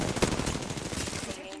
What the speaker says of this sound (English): There's definitely shots out